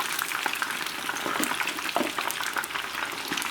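Chicken wings fry in hot oil for hot wings, a steady close sizzle with dense crackling and popping bubbles that holds at an even level throughout, with no talking.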